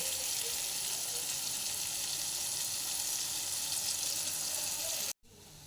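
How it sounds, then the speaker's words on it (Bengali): An egg cracked over frying food in a pan for pasta sets off a loud, continuous sizzle that hisses steadily and then cuts off abruptly just before the end. "এবারে ওর উপরেই একটা ডিম ফাটিয়ে দিয়ে দিচ্ছি"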